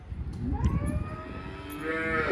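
A cow on a dairy farm moos loudly and close by, one long drawn-out low call that rises in pitch toward the end, with no talking.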